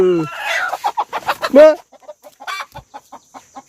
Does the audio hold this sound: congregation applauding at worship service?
no